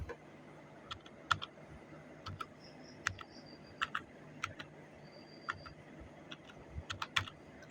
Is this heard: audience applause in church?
no